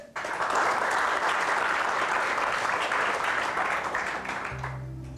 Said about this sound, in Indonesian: Tepuk tangan buat James.